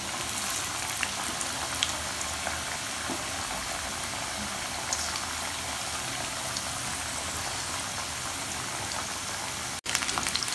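Chicken pakoras sizzle steadily in hot oil over medium heat, a dense, even crackle and hiss lasting throughout with no voices, then a brief dropout near the end.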